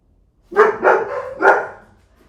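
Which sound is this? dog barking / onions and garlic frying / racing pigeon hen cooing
dog barking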